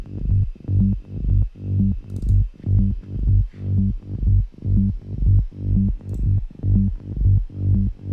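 A deep, pulsing synth sub bass spanning three octaves repeats in a steady rhythm in a progressive house track, each throbbing note swelling and fading, loud and upfront with no voices.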